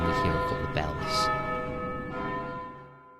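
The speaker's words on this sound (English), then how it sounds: "the screen fades to black and we hear a couple of bells" Bells ring in the dark stone undercity of the video game Vagrant Story, a couple of resonant, sustained tolls that decay slowly, heard alone without talk.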